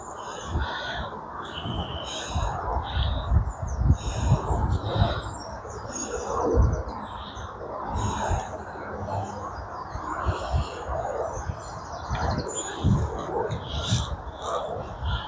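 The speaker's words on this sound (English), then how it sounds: "I'm hoping these microphones are picking up that bird sound for you" Birds sing repeatedly outdoors, with short bright phrases over a rustling, breezy background and occasional low thumps.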